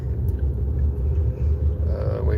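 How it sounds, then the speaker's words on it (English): A car moving slowly past in a parking lot, a steady low engine rumble that stays fairly close and constant throughout, with no clear rise or fade. "Wait for that car to go right there."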